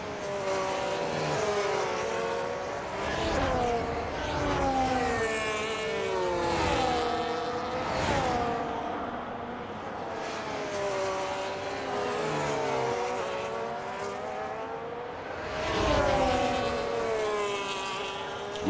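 Race cars lapping the Australia circuit in a racing video game, engines swelling and fading as cars pass in repeated waves, loud and continuous with no talk.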